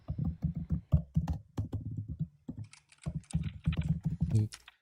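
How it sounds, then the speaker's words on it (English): Fingers tap rapidly on a computer keyboard in quick uneven bursts of clicks, close and clear, with short pauses between runs. "Fingers are typing away."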